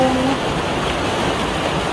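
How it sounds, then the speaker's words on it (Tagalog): Heavy storm rain falls during a typhoon as a loud, unbroken wash of noise, steady and close, with no pause throughout. "Ang lakas ng ulan, hindi siya tumitila."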